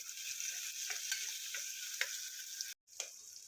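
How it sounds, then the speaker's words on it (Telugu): Pepper, cinnamon and green chillies fry in hot oil for Hyderabadi bagara rice, a steady close sizzle with light stirring scrapes and a few soft ticks, broken once by a brief silent gap. "ఇవన్నీ కలిపి బాగా వేయించుకోవాలి"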